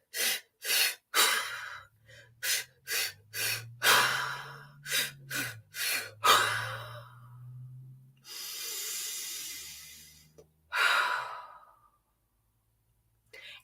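A 5-3-3 belly-breathing exercise: a close series of quick, sharp breaths in a steady rhythm, followed by longer drawn-out exhales and a final sighing breath, with no talking.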